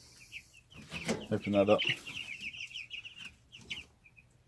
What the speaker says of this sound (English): some meat chickens the other day. Or meat day-old chicks.